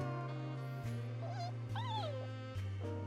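Koromaru, a dog character in the fighting game Persona 4 Arena Ultimax, gives a run of high whimpering yips and whines over a steady game music backdrop, with no talk.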